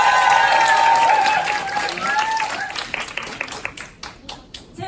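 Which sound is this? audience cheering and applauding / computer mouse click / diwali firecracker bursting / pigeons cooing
audience cheering and applauding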